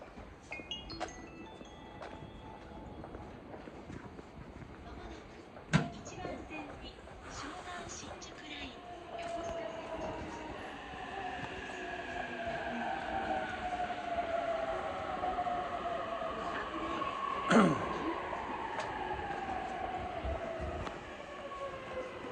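A train in Japan on a cold day, with a long rising and falling metallic rail tone, rumbling wheels and a couple of sharp clanks, under quiet talk.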